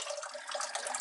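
Water gurgles and rushes as it spins down a drain in Queensland, a brief, close, steady swirling splash with no voices.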